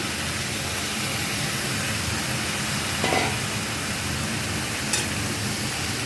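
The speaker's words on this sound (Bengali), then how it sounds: "1 মিনিট মতো ভেজে নিই শাকটা" Bottle gourd greens frying in a pan with chillies and vegetables, giving a steady, even hiss of sizzling throughout, with a couple of faint utensil clicks.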